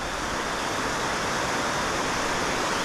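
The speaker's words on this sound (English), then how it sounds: "the creek just keeps getting prettier and prettier with these really mellow sliding cascades" A creek flows over mellow, sliding cascades along a Pacific Northwest stream, giving a steady, dense rush of water that stays loud and unchanging throughout, with no voices.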